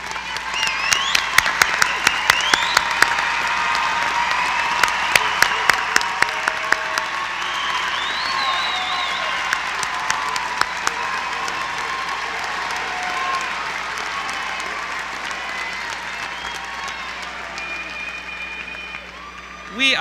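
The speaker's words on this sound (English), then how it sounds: "We applaud your accomplishments inside and outside the classroom." Applause for graduates at a 2016 spring commencement ceremony in a large hall, steady crowd clapping with scattered sharp claps and some cheering, voices mixed in throughout.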